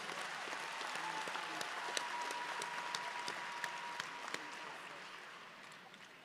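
An audience at a Rutgers School of Social Work convocation ceremony applauds award recipients with sustained, dense clapping that carries evenly for several seconds and then gradually fades. It sounds moderately distant in a large hall, with a few louder individual claps standing out.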